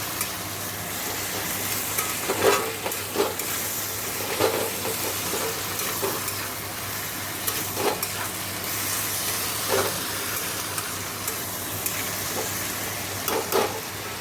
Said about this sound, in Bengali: রাঁধুনি ফোড়ন দিয়ে টমেটো লঙ্কা দিয়ে কাল কুমড়োটা দিয়ে দিয়ে নুন হলুদ দিয়ে একটু মিষ্টি দিয়ে নাড়াচাড়া করছি